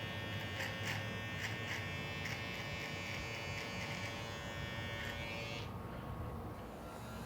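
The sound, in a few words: small electric beard clipper buzzing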